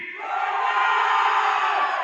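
A large crowd at a film trailer launch shouts together in one loud, sustained collective chant, rising quickly after a brief start and holding at full volume to the end.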